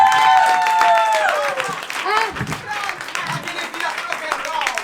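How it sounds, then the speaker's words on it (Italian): Crowd applause at a music jam event greeting a singer and frontman, clapping and some cheering under a loud voice and tonal sounds at the start, continuing in ragged bursts. "Un applauso!"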